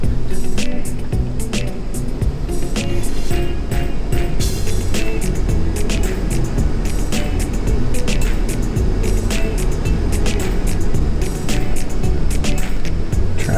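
An RV rolls through a parking lot, its engine giving a steady, loud low rumble with road and wind noise all the way through and scattered clicks and knocks over the top.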